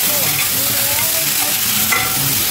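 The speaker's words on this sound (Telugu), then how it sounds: "ఇప్పుడు మనం కట్ చేసి పెట్టుకుని ఈ బ్రోకలీ, జుకీనీ, ఇవి వేసేసి బాగా కలిపేసేయండి." Broccoli and zucchini stir-fried in a pan for an Italian pasta, a loud, continuous close sizzle with light scraping and stirring.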